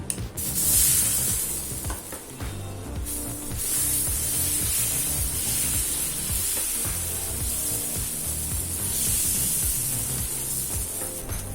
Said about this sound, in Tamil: இப்போ கல் சூடாயிடுச்சுங்க, நம்ம பச்சை பயிறு தோசை ஊற்றிடலாம்.